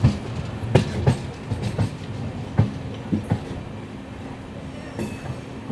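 Inside a general coach of the Palnadu Express running with new LHB coaches, the wheels knock over rail joints in uneven clusters of clicks above a steady rolling rumble, close and fairly loud.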